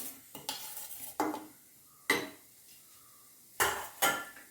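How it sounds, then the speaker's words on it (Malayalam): Grated coconut stirred dry in a pan over a low flame, with no oil or water, giving several separate scraping, clattering strokes of a utensil against the pan, close and fairly loud with quiet gaps between them. "വീണ്ടും നമുക്കിത് ഇളക്കാം"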